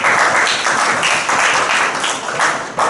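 A church congregation claps in a dense, continuous wave of applause, loud and full for nearly three seconds before tapering off at the end.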